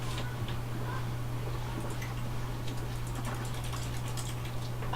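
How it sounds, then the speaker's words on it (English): Computer keyboard keys and a mouse click quietly in rapid, irregular bursts at close range while a game of The Stanley Parable is played, over a constant low electrical hum with no talking. "You can hear me clicking."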